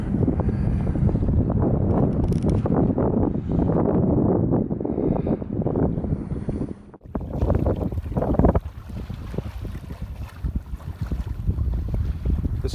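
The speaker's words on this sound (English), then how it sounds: "I got the sails up and having a nice sail out of the harbour" Sailboat under sail heading out of Waitemata Harbour, strong steady wind buffeting the microphone with water rushing along the hull, loud and continuous, easing somewhat after a brief dip midway.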